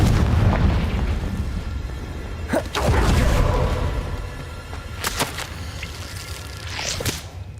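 Confringo fire-blast spell explosions in the video game Hogwarts Legacy: a few sharp whip-like cracks and booming bursts, with rumbling low background noise between the hits.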